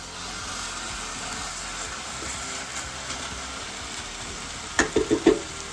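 A London broil steak sizzles steadily in a hot pan after being flipped, a close, continuous hiss with a few louder sputters near the end, with no voices.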